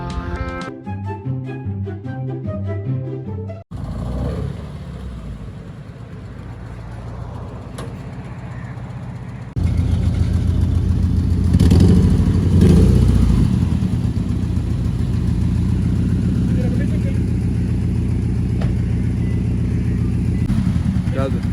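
A Toyota 86 engine misfiring, a rough mid-pitched running drone that grows louder and harsher partway through, heard from inside the car after a brief stretch of music at the start.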